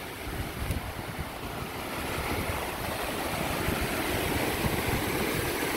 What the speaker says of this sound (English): here's one of the upper waterfalls